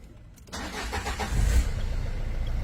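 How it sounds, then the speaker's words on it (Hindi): A car starts for the first time after a full repair with a freshly charged battery. There is a brief crank, then the engine catches and settles into a steady nearby idle, with no talking. "बैटरी भी इसकी चार्ज करके लगा दी, पहली बार स्टार्ट किया"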